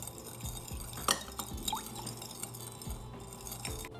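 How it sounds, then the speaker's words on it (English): A spoon stirs a liquid marinade of soy sauce, sugar and black pepper in a bowl, with wet sloshing, soft drips and an occasional light clink against the dish, close and quiet. "Give that a mix."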